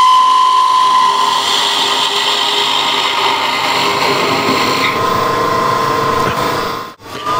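Steady, close wood lathe turning with a spindle gouge, shaping the end of a wooden sugar or coffee scoop, a continuous scraping hiss over the motor hum with a brief drop near the end.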